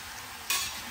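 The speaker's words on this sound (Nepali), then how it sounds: "प्रसाद भुट्नु भुट्दै हुनुहुन्छ" Finger millet mixed with sugar roasts in a pan as puja prasad, a brief sizzle with a sharp stirring scrape in the middle.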